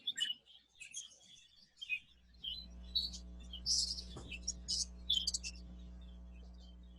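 Budgerigars in an exhibition breeding aviary give bursts of bright, scratchy chirps and twitters, fairly close and intermittent, over a low steady hum.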